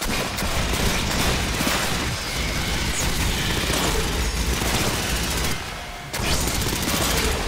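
Heavy gunfire and blasts fill a battle in the game Aliens: Fireteam Elite, a dense, loud, continuous barrage that briefly drops near the end before resuming, with no voices.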